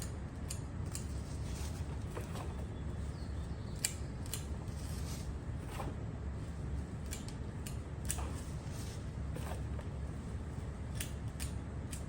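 Scissors make repeated crisp snips while hard pruning the plants in a hanging basket, an irregular string of close, faint cuts over a quiet background hiss.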